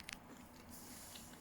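Someone bites into a crispy croque-monsieur with a couple of sharp crunches at the start, then soft chewing close to the microphone.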